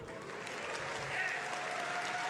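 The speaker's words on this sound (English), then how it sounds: "A smattering of applause for the Normans." Scattered audience applause, a light smattering of clapping from a crowd that holds steady at moderate loudness for a couple of seconds.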